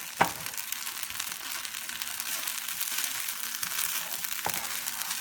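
Mint thokku frying in oil in a pan while being stirred, a continuous close sizzle with scraping stir sounds and a couple of sharp clinks of the spoon, no talking.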